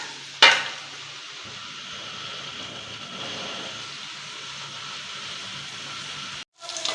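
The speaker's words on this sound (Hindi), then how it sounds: "इसके लिए मैंने 3 अदद प्याज लिए हैं। इनको अच्छी तरह घी में फ्राई कर लेते हैं।" Three onions frying in ghee for aloo gosht, a steady broad hiss of sizzling with a sharp clatter near the start and a brief cut near the end.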